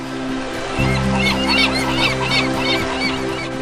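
Birds flying in the sky above a riverbank give a run of loud, repeated honking calls, close and clear, with no voices.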